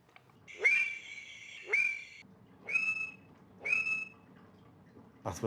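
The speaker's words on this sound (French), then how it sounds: "Nous entendons maintenant les chants d'accouplement de ces deux populations." Mating calls of the Conraua alleni frog from Sierra Leone: four loud, clear whistled calls, each rising sharply then holding steady, spaced about a second apart, with two longer calls followed by two shorter ones and a faint background hum.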